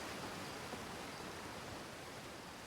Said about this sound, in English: Ooh, source of the waterfall from down below.